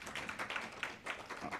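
A round of applause from a conference audience at a national meeting on economic, social and cultural rights, a dense patter of many hands clapping steadily at moderate loudness with no voices.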